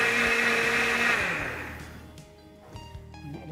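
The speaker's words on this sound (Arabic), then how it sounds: "نعمله في الخلاط" A blender mixing flour and milk whirs loudly at high speed, then winds down and stops, leaving a few faint clatters and knocks behind.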